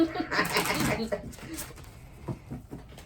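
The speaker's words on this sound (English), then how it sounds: "I'm very rough when I shuffle." Tarot cards shuffled roughly by hand, a burst of crisp riffling and slapping near the start that thins into scattered soft flicks, with a voice talking over parts of it.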